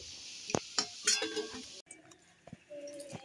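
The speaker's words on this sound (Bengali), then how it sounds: "আর এই বড়াগুলো ভাজা হয়ে গেছে, আমি তুলে নিচ্ছি" Fried shrimp fritters lifted out of a frying pan: a few sharp metallic clinks and scrapes of a utensil against the pan over a steady oil sizzle, the sizzle dropping away partway through before more light clinks.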